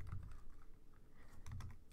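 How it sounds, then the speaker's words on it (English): Someone types on a computer keyboard while entering Java code: quiet, close clicks arriving in two short bursts with a pause between them, and no speech. "my typing is really bad"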